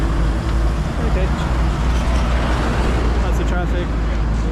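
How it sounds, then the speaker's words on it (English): Dense night street traffic on the Cotai Strip in Macau, a steady roar of cars, buses and engines close by with no breaks and some faint background voices. "Lots of traffic."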